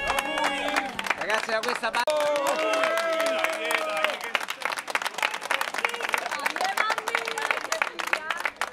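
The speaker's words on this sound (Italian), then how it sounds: "Un applauso spontaneo, ragazzi." Spontaneous applause and cheering at a wedding celebration for a couple, a crowd clapping steadily in a noisy room while voices and chatter run over it throughout.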